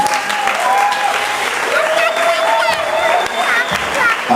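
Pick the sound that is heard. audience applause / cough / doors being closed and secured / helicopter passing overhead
audience applause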